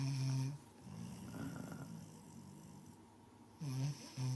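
Loud snoring snorts in two bursts at the start and end, separated by a quieter stretch of breathy noise.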